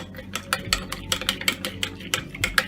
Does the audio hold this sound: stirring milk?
yes